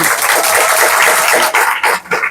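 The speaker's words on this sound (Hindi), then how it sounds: "अरे जोर से ताली दे दो" Loud, dense clapping from an audience gathered for an evening Hari-katha talk in Navadvipa, sustained then breaking into a few uneven bursts near the end.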